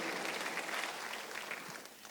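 A church congregation claps during a Sunday worship service, a faint, steady wash of applause heard from a distance that tapers slightly toward the end.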